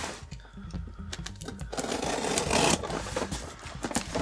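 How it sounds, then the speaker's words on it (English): Atari 2600 Junior game cartridges rattle around inside a shipping box, a quick run of close, irregular plastic clacks and knocks followed by louder scraping shuffles. "Sounds like it might be the cartridges in it rattling around."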